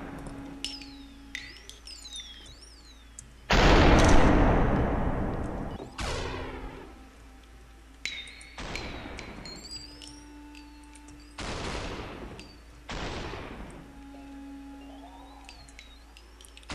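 Gunshots in the game SUPERHOT ring out as several sharp, loud reports spaced a couple of seconds apart, with the first louder and longer than the rest, over quiet electronic game tones.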